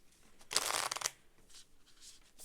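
Tarot cards are shuffled in a messy, rapid riffle lasting about half a second, crisp and close, followed by fainter soft card rustles.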